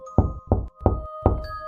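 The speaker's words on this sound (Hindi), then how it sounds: "दरवाजा खटखटाने की आवाज सुनाई दी" Four loud, distinct knocks on a door in an uneven rhythm, close and sharp against a quiet background with faint tonal hum.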